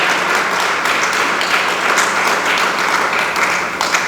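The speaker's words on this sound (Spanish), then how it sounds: "dele palmas al Señor en esta noche" A church congregation applauding during an evening service, a dense, loud, steady wash of many hands clapping from start to finish, close and full, with no distinct talking.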